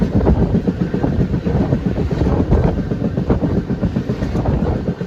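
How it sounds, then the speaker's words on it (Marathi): A slow local train running back from Borivali, heard from on board as a loud steady rumble with rhythmic clattering of the wheels and wind noise throughout. "आता इकडून मी घरी जायला ट्रेन पकडतो आहे."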